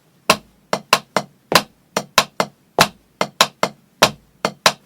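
Sharp drum hits repeat in an interlocking three-against-two polyrhythm, two rhythms layered against each other, crisp and close with quick decays.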